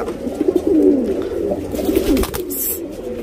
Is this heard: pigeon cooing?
yes